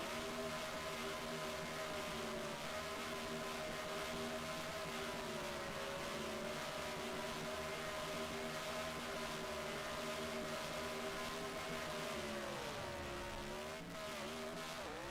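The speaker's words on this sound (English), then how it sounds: "one of those tribute cars at Victory Lane and doing double burnouts here" Engines from two NASCAR Racing 2003 tribute cars roar continuously during a double burnout in Victory Lane at Texas Motor Speedway, with loud, sustained revving and a droning tone that dips near the end.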